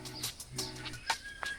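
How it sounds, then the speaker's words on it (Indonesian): Birds in a bird park coo and chirp softly nearby, with a low dove-like coo and a few short, thin calls over quiet background. "Di sini burung semua ya?"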